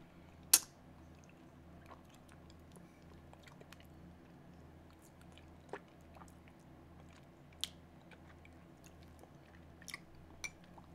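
Juicy mangosteen fruit is eaten close to the mic in a quiet room, with soft wet chewing and occasional sharper bites or squishes scattered over a faint steady background hum.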